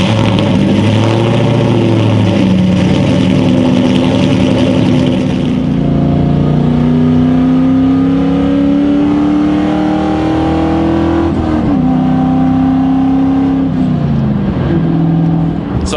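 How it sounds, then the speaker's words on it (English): A Ford Mustang Cobra engine cold-starts, then idles loudly and close with a rough, steady drone. Its pitch rises and falls through several revs without a break. "detail garage, cold start"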